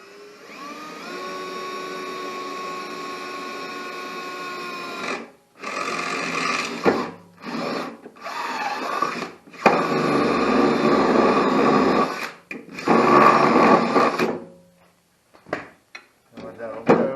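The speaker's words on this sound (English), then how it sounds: "Or let's drill right next to it." A power drill bores into a Cub Cadet mower deck in a series of whining motor bursts, with several stops and restarts and short pauses between runs.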